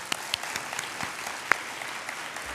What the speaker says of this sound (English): but I think they still deserve a round of applause.